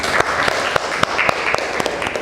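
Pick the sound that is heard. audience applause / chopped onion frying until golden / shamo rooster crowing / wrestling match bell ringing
audience applause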